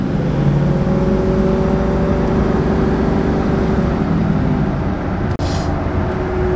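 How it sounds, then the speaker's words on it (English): A 1969 Camaro fitted with a new 454 crate engine runs with a steady, throaty exhaust rumble and engine drone, close and continuous with no talk over it. "Exhaust isn't loud enough though"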